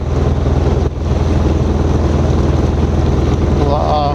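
A Mokai motorized kayak cruises out from the Marysville boat launch into the sloughs, its engine droning loud and steady close by with wind buffeting the microphone and brief water splashes.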